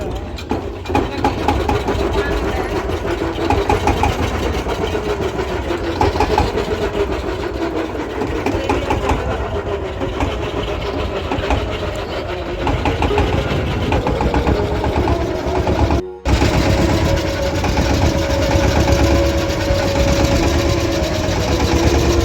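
A boat engine chugs steadily and loudly for a long stretch while crossing the Jalangi River at Mayapur, a low droning rumble with a brief break partway through, voices faintly mixed in.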